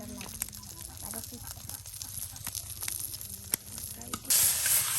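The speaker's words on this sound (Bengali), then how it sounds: "মাছগুলি আপনার এই তেলে দেওয়া হলো ভাজি করার জন্য" Taki fish, coated with a little turmeric, frying in hot oil for a mashed fish bharta: a steady close sizzle with faint crackles and a few sharp pops, swelling into a louder, harsher hiss near the end.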